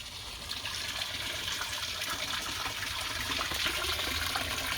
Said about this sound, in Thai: น้ำไหลไม่ทันครับ เชื่อมจากบ่อหนึ่งไปบ่อสองไหลไม่ทัน